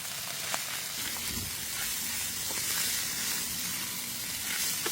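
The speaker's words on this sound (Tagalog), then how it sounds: "Saka ilagay itong shredded chicken. Igisa lang natin ito saglit para mas flavorful." Shredded chicken sautéing in oil for chicken pastil gives a steady, close sizzle and hiss that runs unbroken for the whole stretch, with no talking over it.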